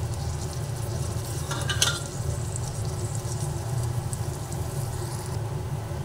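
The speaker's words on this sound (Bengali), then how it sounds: "সেই আলুটা এক এক করে এই তেলের মধ্যে দিয়ে দিচ্ছি" Boiled potatoes frying in hot oil in a pan, a low steady sizzle with a brief scraping stir partway through, quiet and close.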